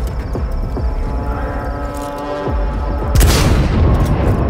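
A grenade blast in Cyberpunk 2077 erupts as a single loud, broadband boom near the end, preceded by a few dull thumps and a steady low game hum.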